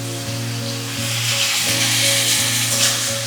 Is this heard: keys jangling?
no